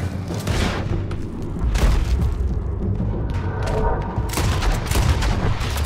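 Gunfire in the video game Red Dead Redemption 2 during a shootout: repeated loud booming shots and volleys at close and middle distance, crowding one another over several seconds with no pause.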